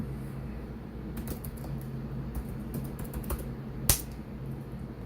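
Computer keyboard typing a command, heard as a quiet, close run of light key clicks over a steady low hum, ending with one sharper, louder keystroke.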